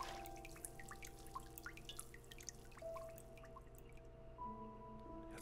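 Water drips in the video game Homesick as scattered, faint plinks over a quiet, low room hum.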